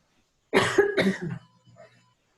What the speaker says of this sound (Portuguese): Eu tô dando tosse assim, mas não tô gripada não